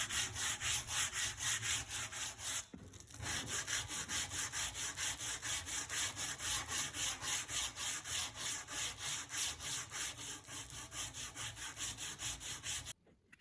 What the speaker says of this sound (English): And then give everything a final sanding by hand